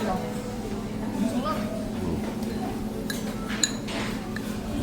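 Rice is scooped from stone-pot bowls (dolsotbap) at a Korean abalone restaurant, with light clinks and scrapes of spoons and dishes under a busy room hum.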